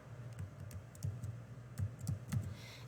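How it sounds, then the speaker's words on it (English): A laptop keyboard taps out a library card number in a quiet room, a string of soft, close keystrokes in an uneven rhythm. "So I'm going to type."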